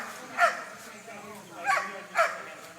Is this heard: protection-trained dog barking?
yes